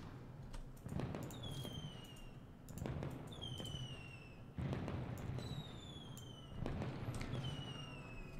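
Fireworks in a train-building city game: four evenly spaced bursts, each a sharp pop followed by a descending whistle and crackle, over a quiet background.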